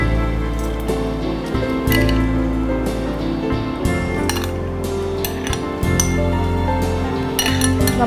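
Washed cracked wheat tipped into a pressure cooker, with wet squishing and light metallic clinks of the vessel and utensil, steady and close over a tonal background.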